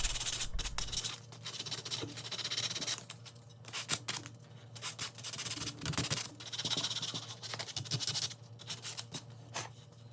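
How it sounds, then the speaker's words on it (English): Steady back-and-forth rasping of sandpaper over a repaired wooden chair joint, close and continuous, with uneven strokes and brief pauses between passes. "Just going to give it a quick sand."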